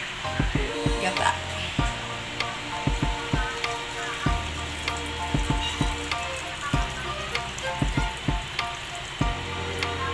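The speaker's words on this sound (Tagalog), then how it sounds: "Gagataan natin ang labong." Bamboo shoots simmering in coconut milk for a creamy dish with smoked fish, giving a steady sizzling bubble broken by frequent sharp clinks and knocks of a utensil stirring the pot close by.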